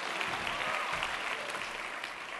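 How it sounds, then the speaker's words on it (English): An audience applauds a volunteer at a seminar event, with steady dense clapping heard at a distance and held at a fairly even level. "how about a round of applause?"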